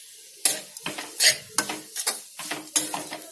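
Leftover rice is stirred with spice powder in a pan. A spatula makes repeated rhythmic scraping and clanking strokes against the metal over a light sizzle, close and fairly loud, with no one speaking.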